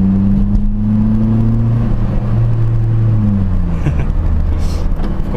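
A Chevrolet Corsa Classic 1.0 VHC running on ethanol, fitted with an air filter and sport exhaust, drones with a steady low engine roar from inside the car, its pitch holding then easing down as it cruises, loud and continuous.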